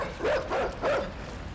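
A dog chasing in the game INSIDE gives three quick, close barks in a tight rhythm, loud and alone with no talk.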